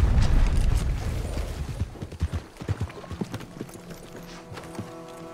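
Horse hooves clip-clop in Red Dead Redemption II, a steady rhythmic gait over a low mechanical rumble that fades, the hoofbeats turning sharper and more distinct as the background noise settles.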